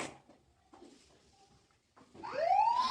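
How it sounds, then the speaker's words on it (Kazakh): After a quiet stretch of faint clatter, an ambulance siren swells in with a rising wail, loud and drawing closer at the end. "Жедел жәрдем келе жатыр, мен күтіп алайын"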